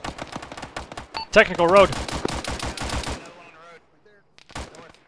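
Bursts of rapid automatic gunfire and single shots crackle through a military shooter game during a squad firefight, loud and close, with players talking over the shooting and a quieter gap near the end.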